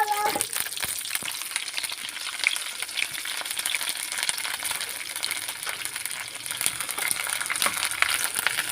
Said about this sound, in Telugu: ఇప్పుడు తాలింపు వేసుకుంటున్నామండి సాంబార్లోకి